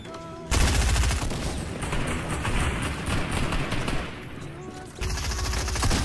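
Fortnite video game gunfire, dense rapid bursts of automatic shots filling several seconds with brief gaps, loud and sustained, with a player's voice talking over the shooting.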